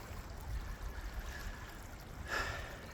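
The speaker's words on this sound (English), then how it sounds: "Hear the creek?" A creek flows steadily on rural land in Middle Tennessee, a soft, continuous wash of running water heard alone at low level, with a brief louder splash or rush near the end.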